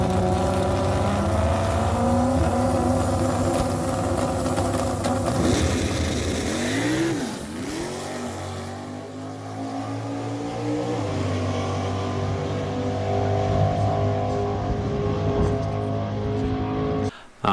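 A drag race car from an NMRA vs NMCA event makes a full pass down the strip, its engine roaring loud and steady as it accelerates away, the tone dropping and fading as it travels into the distance.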